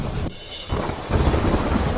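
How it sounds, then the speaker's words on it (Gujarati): Heavy downpour of monsoon rain with a deep roll of thunder, a dense steady wash of noise that dips briefly before the rumble swells, loud and close with no talking. "ધોધમાર વરસાદથી નદી નાળા અને ખેતરોમાં ભરાયા પાણી"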